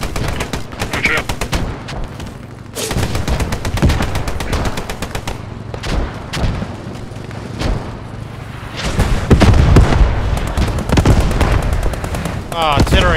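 Gunfire and explosions in the WW2 shooter Post Scriptum: rapid machine-gun bursts and single shots crackle continuously, punctuated by heavy booming impacts that swell louder toward the end.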